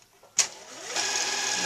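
A sewing machine winding thread onto a bobbin, starting with a click followed by a steady high-pitched mechanical whir that holds at an even level close to the mic.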